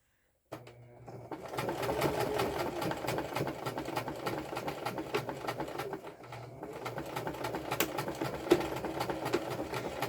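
A sewing machine back stitches through a pile of fabric scraps, running steadily and fairly close with a continuous mechanical chatter, briefly easing around the middle before resuming, with no talking.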